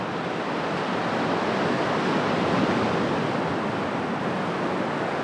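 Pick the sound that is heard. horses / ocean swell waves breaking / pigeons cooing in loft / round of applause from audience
ocean swell waves breaking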